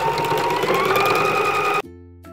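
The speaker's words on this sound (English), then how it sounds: "Now I'm ready to sew the seam up." Sewing machine running a straight seam on a beanie, a close, steady buzzing whir for nearly two seconds that stops abruptly, followed by faint mechanical clicks.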